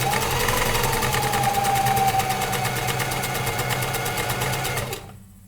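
A home sewing machine runs steadily as it stitches fabric, a fast even mechanical rattle that holds for several seconds and then stops abruptly.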